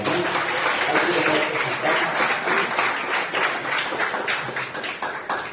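A church congregation applauding during a morning worship service, a continuous dense wave of clapping from many hands that stays strong throughout before easing slightly at the end.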